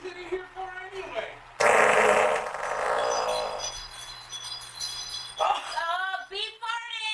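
A loud, drawn-out fart rips through a casual indoor podcast-style recording, with voices talking around and after it.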